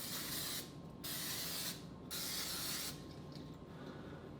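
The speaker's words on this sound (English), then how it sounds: "So I like to use a little bit of spray coconut oil." Three short bursts of coconut oil cooking spray hiss close by onto a donut pan, each about a second long, separated by brief pauses.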